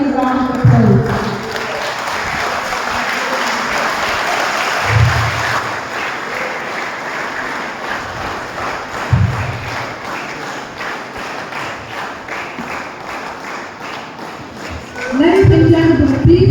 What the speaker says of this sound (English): Ladies and gentlemen, can we all give a round of applause?